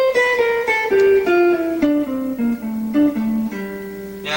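A guitar plays a descending run of single notes with finger rolls, stepping down in pitch through about a dozen clear, plucked tones at a moderate pace, close and alone.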